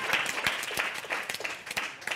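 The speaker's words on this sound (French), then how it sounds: "Est-ce qu'on peut l'applaudir bien fort?" Applause from a studio audience welcoming a guest, a writer and producer, onto a French-language talk show: dense, steady clapping throughout, fairly close, with no voices over it.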